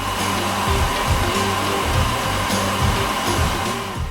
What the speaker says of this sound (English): I'll use this hairdryer if you don't mind.